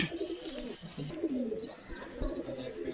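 Kalenka pigeons cooing inside a loft, soft low repeated coos and murmurs with a few higher chirps from other birds, fairly close and steady throughout.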